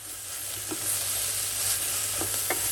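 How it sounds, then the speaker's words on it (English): Food stirs and sizzles in a pan in a home kitchen as part of a meat-free dinner, a steady close frying hiss with a few faint scrapes and clicks of a utensil, no voices. "Stir them up and make them cook in the kitchen like this."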